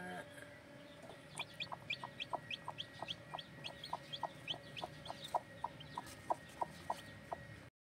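Newly hatched chicks peep in a rapid, regular series of high, thin calls alongside a mother hen, close and fairly quiet, with a faint background hum.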